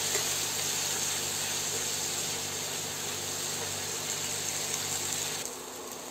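Spring onion and potato with turmeric and red chili powder frying in a pan, giving a steady, continuous sizzling hiss that holds evenly for several seconds before dropping slightly at the end, with no talk over it.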